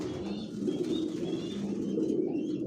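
Racing pigeons in a loft, a steady low murmur of cooing with soft wing flaps mixed in, close and continuous throughout.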